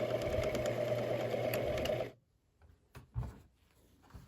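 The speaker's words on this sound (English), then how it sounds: "I'm gonna just stitch down one side" A sewing machine stitches down one side of folded, ironed fabric for a quilted book sleeve, a steady close whirring run for about two seconds, then stopping with a few light handling knocks.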